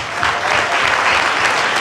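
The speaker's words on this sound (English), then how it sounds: "Give these guys a round of applause." Steady applause from an audience, many hands clapping densely and continuously with no voices standing out.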